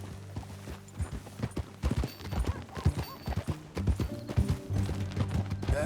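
Horse hooves from the Red Dead Redemption 2 video game clip-clop in a steady, rapid rhythm, with gear and tack jangling and a brief whinny, fairly close and loud.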